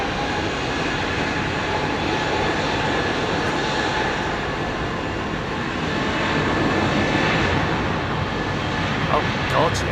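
An airliner passes at London Heathrow Airport, its engines a loud, continuous roar with people talking underneath.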